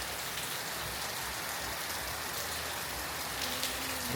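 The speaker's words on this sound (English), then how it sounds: "It's been raining all morning." Steady rain in Jamaica patters down on a surface, a soft continuous hiss with scattered drops and no voices.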